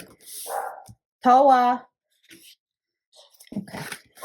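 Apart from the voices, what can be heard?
small dog barking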